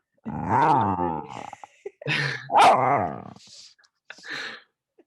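A dog barks and growls in several short bursts with gaps between, close by and fairly loud, with no talking.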